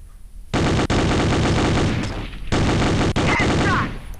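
Automatic P90 gunfire in a video game: two long sustained bursts of rapid shots, loud and close, separated by a brief lull with no talking.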